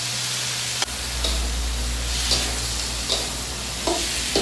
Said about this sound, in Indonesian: kita tumis dulu. Cabai, bawang putih, bawang merah.